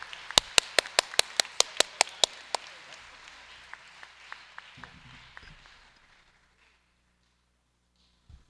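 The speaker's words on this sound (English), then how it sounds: "So can we give them a big round of applause?" A school awards-ceremony audience claps for newly announced executive board members: sharp, loud, evenly spaced claps at first, thinning into scattered lighter claps before fading out to near silence.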